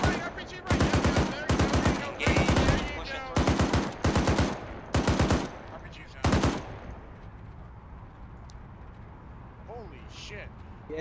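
.50 M2 heavy machine gun fired in a military game setting, loud rhythmic bursts of rapid heavy rounds in several short volleys, then a quieter tail with faint distant sounds afterward.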